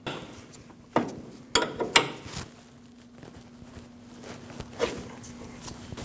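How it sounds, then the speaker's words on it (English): Wrench tightening a tie rod jam nut on a 2003-2008 Subaru Forester, a handful of sharp metallic clicks and knocks clustered early, then quieter scattered ticks over a faint steady hum. "And now tighten your jam nut."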